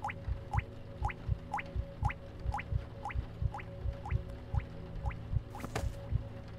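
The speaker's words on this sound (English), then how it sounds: "Especially that dripping." Water drips at a steady, even rhythm in a spooky video game, each drop a clear close plink over a low ambient hum, with no talking.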